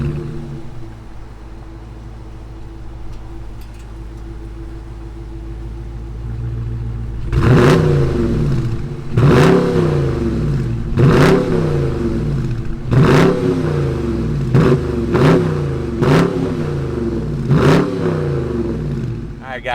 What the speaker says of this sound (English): let's fire this up and hear what that Hemi sounds like.